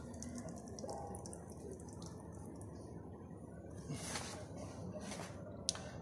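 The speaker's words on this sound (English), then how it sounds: "water is entering here" Water runs through an inlet into a small tank, making a steady, soft gushing and trickling stream with a few splashy surges, fairly quiet and continuous throughout.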